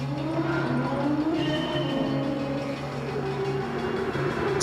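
A 1000HP Nissan R35 race car in Gran Turismo 7 roars steadily through a lap replay, its engine holding sustained tones that shift pitch with gear changes, loud and continuous.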